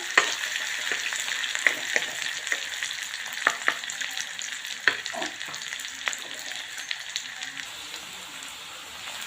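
Round slices of onion and potato fry in a pan, a steady close sizzle with crackles and pops scattered throughout at moderate loudness.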